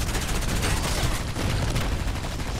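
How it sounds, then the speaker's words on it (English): Mortar strike in the Contract Wars shooter, a dense, loud run of rapid gunfire and explosive bursts that fills the whole stretch without letup. "we're gonna throw mortar strike here and sacrifice"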